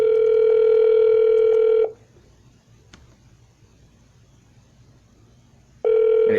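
A telephone line sounds a steady electronic ringback tone while a call goes out to homeowners. Two loud sustained bursts are separated by about four seconds of near silence.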